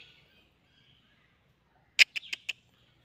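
A great hornbill at Bangladesh National Zoo gives a quick burst of four loud, harsh calls in close succession, following a near-silent stretch with faint distant chirps.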